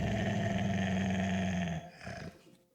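A huge hound in the game UnMetal growls loudly and close in a sustained, rough snarl that breaks off and fades into a brief trailing rumble.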